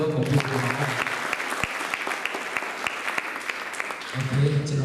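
Hands clapping in a crowd at a church camp closing service, a dense steady burst of applause lasting several seconds, with a voice speaking briefly before and after it.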